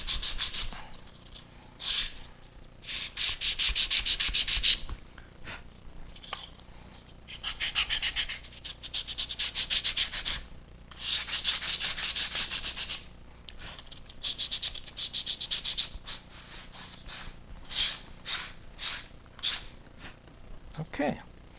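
A plastic model airplane wing part for a P-40C Tomahawk kit being sanded by hand: close, scratchy rubbing strokes in repeated bursts of uneven length, ending in a series of quicker short strokes.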